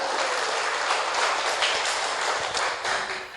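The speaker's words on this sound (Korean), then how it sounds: "드시는 분들만 자축의 박수 부탁드립니다." Self-congratulatory audience applause during a product presentation, steady dense clapping from many hands at moderate level, fading slightly toward the end with no speech.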